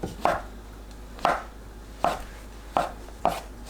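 A knife slices through shiitake mushroom caps on a cutting board, cutting them into thin slices with six sharp, evenly spaced chops, close and clear, with no talk.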